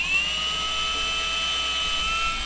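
A drill fitted with a tiny 1/16-inch bit bores pilot holes for hinges on a pack, giving a steady, close high-pitched whine at constant speed with no talking.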